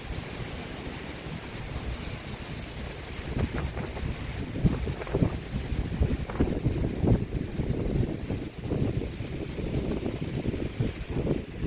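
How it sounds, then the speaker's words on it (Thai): Strong wind battering an outdoor spot at Tan Diao, a continuous loud roar of gusts buffeting the microphone with rumbling thumps and broadband rushing noise, no talking. "ลมแรงมากนะครับดูลมนะครับ"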